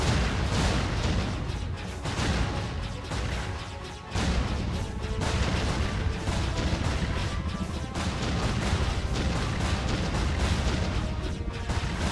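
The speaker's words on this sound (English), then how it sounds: "Lots of explosions." Dense, continuous barrage of booming explosions and crashing impacts in the video game Jade Empire, loud and chaotic, layered over one another with no let-up and no speech.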